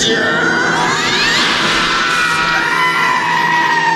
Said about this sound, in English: Why is everyone screaming?